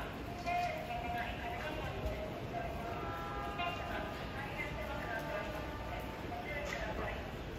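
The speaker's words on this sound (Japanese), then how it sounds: "6番線側列車が入ってまいります。" A DE10 diesel locomotive hauling 12-series passenger coaches rumbles steadily into Chiba Station, its wheels and machinery producing a continuous roar with faint high squeals throughout.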